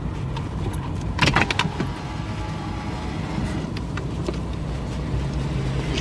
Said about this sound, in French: Un Porsche qui repasse.